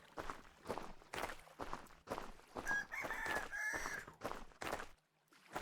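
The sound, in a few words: chicken clucking in video game Vintage Story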